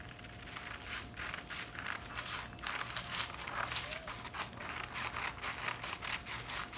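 Fabric is cut out for a handkerchief flare, with a close, steady run of crisp snipping and crinkling, quiet and alone.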